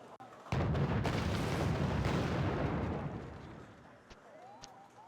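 An Abrams tank firing its main gun in the video game Wargame AirLand Battle, one heavy booming shot followed by a rumbling tail that fades over a few seconds, with light clicks afterward.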